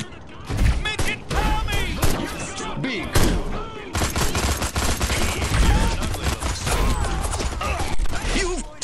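Rapid gunfire in the video game Destroy All Humans, dense crackling volleys of shots running almost nonstop and loud throughout, with brief gaps and some mechanical clatter mixed in.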